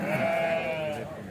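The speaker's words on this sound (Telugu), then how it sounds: "ఇక్కడ కట్ట గొర్రెలు అయితే ఉన్నాయండి" A sheep bleats at a Kadiri weekly sheep and goat market, one drawn-out wavering call heard up close over a low murmur of the crowd.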